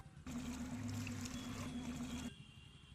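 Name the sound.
water tap left running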